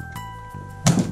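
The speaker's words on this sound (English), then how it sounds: "It's a powerful toy gun." A toy superhero gun fires at a target. A faint click comes first, then a single sharp, solid thunk near the end, short and close by, with no voices.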